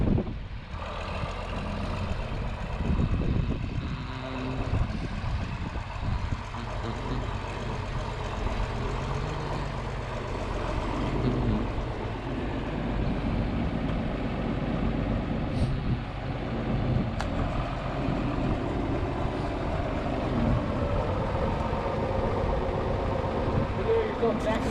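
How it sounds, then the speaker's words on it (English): John Deere 4230 tractor engine idling steadily on a farm while it backs up toward a grain grinder, a continuous low diesel rumble filling the whole stretch, with voices talking over it. "gonna back the tractor up and we'll drop the pin in and pull it out."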